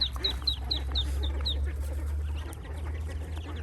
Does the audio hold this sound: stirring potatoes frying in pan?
no